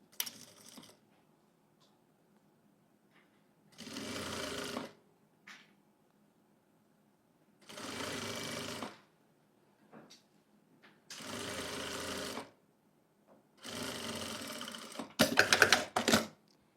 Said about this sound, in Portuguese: eu vou abraçar a minha peça e eu vou costurar